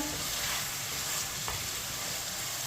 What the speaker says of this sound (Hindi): चिकन को मैंने मिक्स कर लिया है। इसे 5 मिनट के लिए चम्मच चलाते हुए भून लेंगे।